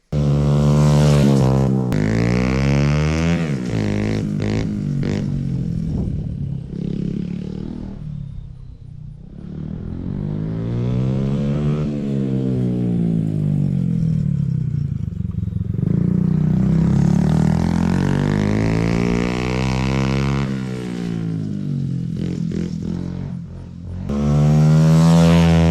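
A Honda motorcycle engine is fired up close by and blipped repeatedly, each rev sweeping up and falling back in loud, rising-and-falling waves with brief idle dips between.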